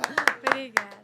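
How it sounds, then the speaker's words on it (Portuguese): A handful of sharp, uneven hand claps ring out close by over a sustained voice, about six quick slaps spread across a second. "Agora eu tenho todas as palmas"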